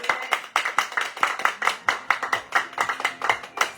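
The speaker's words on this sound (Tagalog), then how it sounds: "Palakpak!" Hands clapping in quick, uneven rhythm, several sharp close claps per second from a small group, continuing steadily with no talk over it.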